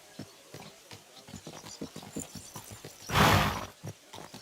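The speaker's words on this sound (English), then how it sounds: "So mount up and we'll ride out." Horses ridden out in the medieval video game Kingdom Come Deliverance II, a run of quick hoof clip-clops with a brief loud snort or whinny bursting in near the end.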